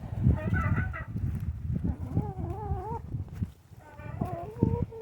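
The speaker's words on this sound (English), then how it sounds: "The turkeys are talking" Several loud, warbling bird calls with rising pitch, a flock of gobbling turkeys close by, overlapping in bursts with brief lulls between.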